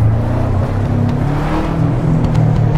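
A racing car's engine drones loud and steady in the Project Cars racing video game, a low continuous hum with slight pitch wavering, no talking.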